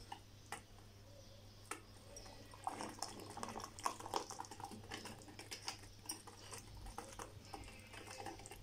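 A cream cheese mixture simmering in a pot, giving faint, irregular bubbling pops and soft patter over a steady low hum, with no talking.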